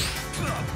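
A parry strike in a Super Smash Bros match lands as a single sharp, bright crash-like hit in the game, loud and brief with a short ringing tail.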